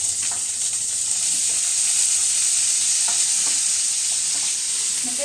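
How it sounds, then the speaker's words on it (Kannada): Onions and garlic sizzle loudly in a pan, a dense, steady frying hiss that runs unbroken from start to finish, close and alone with no voices. "ಸೊ ಬೆಳ್ಳುಳ್ಳಿ ಆದಮೇಲೆ ಈಗ ನಾನು ಈರುಳ್ಳಿ ಎಲ್ಲನೂ ನಾನು ಒಟ್ಟಿಗೆ ಹಾಕ್ಕೊಳ್ತಾ ಇದ್ದೀನಿ"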